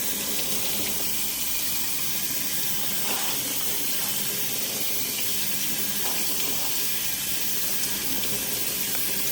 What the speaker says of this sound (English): So I'm just going to run this under some cold water to get it hydrated again